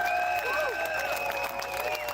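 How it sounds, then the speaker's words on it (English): Crowd applause and cheering for a Vietnam veteran at a nightly meeting of a trucker convoy with a hog roast, a steady wash of clapping with scattered whoops, fairly loud and continuous. "So give this man a round of applause."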